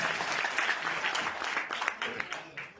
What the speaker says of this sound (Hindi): देखो अभी ये एक बार जोरदार तालियां बजा करके पवन भाई को।